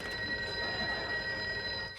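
A telephone bell rings steadily in an old-time radio drama, a continuous sustained ringing tone heard alone, filling the short moment before it cuts off.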